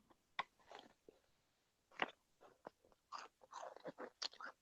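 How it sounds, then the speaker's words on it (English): Close, crisp crunching and chewing of an edible tarantula, irregular bursts of crackly bites and mastication in a quiet room, with no talking. "I can just hear the crunch"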